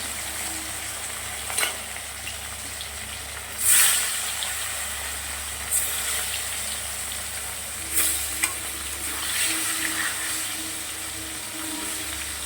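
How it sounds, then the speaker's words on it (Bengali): Katla fish frying in a pan gives a steady, moderately quiet sizzle, with several louder spattering bursts popping out at irregular moments. "মাছটা প্রথমে খুব ভালো করে ভেজে নেব।"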